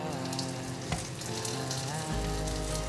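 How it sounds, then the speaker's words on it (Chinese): Potato slices frying in oil in a pan give a loud, close, continuous sizzle with fine spattering. A soft clink comes near the start, and a low hum joins partway through, without any voices. "把马铃薯排放进来煎"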